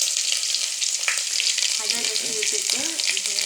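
Curry leaves and garlic fry in hot oil, a steady close-up sizzle crackling without a break, with a few faint tonal kitchen sounds near the end.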